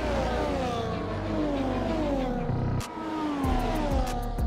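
A Mercedes Formula 1 car in the F1 24 racing game accelerates hard up the Raidillon climb at Spa in Belgium, its engine note rising steadily through the gears, loud and close, with a brief dip near the end before climbing again.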